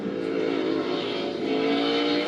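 NASCAR Cup Series race cars roar at Talladega during the final laps in a continuous, blended engine drone that stays fairly distant and even throughout, without any talk.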